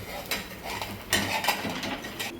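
An egg masala omelette is flipped in a pan: a few soft metallic scrapes and clinks of the spatula against the pan, faint and close, spread over a couple of seconds.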